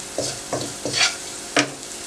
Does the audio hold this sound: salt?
yes